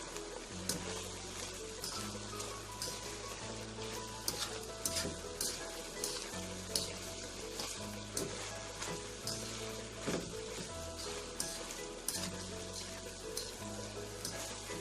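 Egg and vegetables fry in a pan and are mixed with a fork, giving a steady soft sizzle with repeated light scraping and tapping strokes, all fairly quiet and with no voices.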